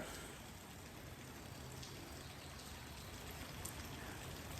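Steady rain falls outdoors around a shelter in Seattle, a continuous even hiss with scattered faint drips, no voices heard.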